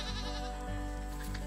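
A goat bleats among mountain meadows, a few short wavering calls over a constant low background hum, fairly faint and with no talking.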